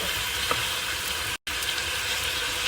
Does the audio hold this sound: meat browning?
yes